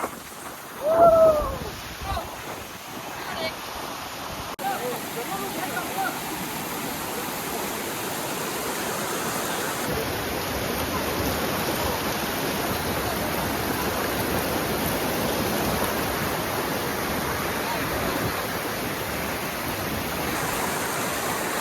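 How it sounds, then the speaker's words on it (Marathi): A waterfall, Padsali Waterfall near Kolhapur, roars in a steady, loud, continuous rush. A voice is briefly heard at the start. "वॉटरफॉलचं पाणी येते धबधब्याचंच पाणी येते"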